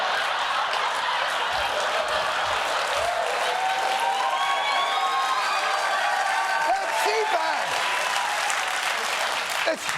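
CPAC crowd applauding and cheering, a dense, sustained wash of clapping with whoops and shouts rising over it, steady throughout.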